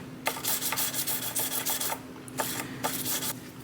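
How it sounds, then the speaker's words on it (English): Fret ends on a 1959 Les Paul guitar are beveled with a file, giving repeated rasping, rubbing strokes, close and fairly loud, in an irregular rhythm with short pauses between passes. "Got to be very careful and restrained with getting these fret ends beveled."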